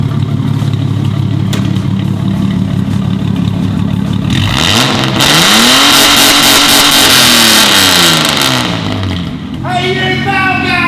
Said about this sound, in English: now I have straight piped the AU Falcon